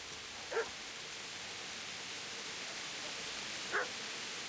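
A dog in the video game Kingdom Come Deliverance barks twice, short distant single barks several seconds apart over a steady hiss of background noise.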